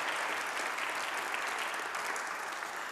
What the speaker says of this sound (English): please give a round of applause for John Chisholm, Milwaukee County District Attorney